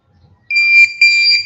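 A new metal detector gives off a loud electronic tone in two sharp, sustained bursts, sounding alone and close with no talk over it.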